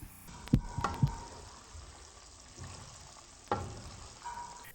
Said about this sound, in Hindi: नींबू डालकर थोड़ा सा मिक्स कर लेंगे।